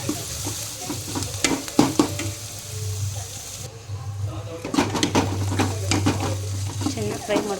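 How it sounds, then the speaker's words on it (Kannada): Tomato gojju fries on a high gas flame with repeated scraping and clinking stir strokes over a steady sizzle, while a pigeon coos faintly in the background. "ಗ್ಯಾಸ್ ಸ್ವಲ್ಪ ಜೋರು ಮಾಡ್ಕೊಂಡು ಚೆನ್ನಾಗಿ ಹುರ್ಕೊಳ್ಳೋಣ, ಫ್ರೈ ಮಾಡೋಣ."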